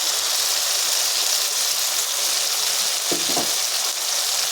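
Steady loud frying hiss from sour potato curry (aloo dum) with green chillies in a pan, continuous and close, with a brief clunk of stirring near the end.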